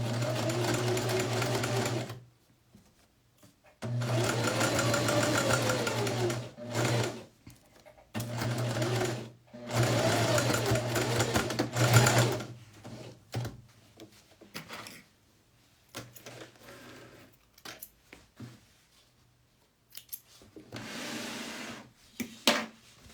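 A sewing machine stitches a bag pocket seam and backstitches, running in several loud bursts of steady whirring separated by short pauses and quieter handling, with no voices.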